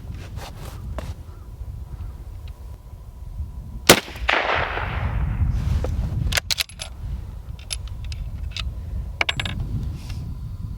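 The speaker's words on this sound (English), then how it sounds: "I'm gonna shoot 2 shots" Two sharp rifle reports from a Lee-Enfield .303 British fired outdoors, each loud crack followed by a rolling echo, with metallic clicks of the bolt being worked between and after the shots.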